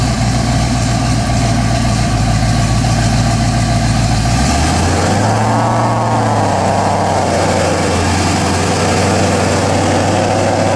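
A twin-turbo Dodge Ram 1500 pickup with a 5.2 liter Magnum V8 drones at a steady idle, then revs briefly and drops back to a deeper, smoother idle, loud and close throughout with no voices.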